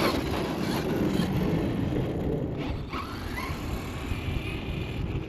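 A brushless FMS Ford F-100 RC truck drives steadily on its 2S setup, giving a continuous broadband rumble and whir of motor and tyres with no clear peaks or talk.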